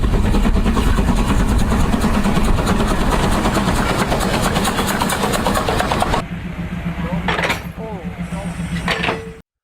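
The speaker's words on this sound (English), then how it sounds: "That Swiss rotary plow uses a giant spinning blade and dedicated engines to eat through several meters of mountain snow." A Swiss rotary snow plow train's dedicated engines run loud and steady in a dense mechanical roar, then the sound drops and thins out with scattered knocks and rattles near the end.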